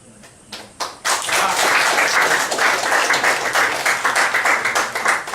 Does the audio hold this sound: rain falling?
no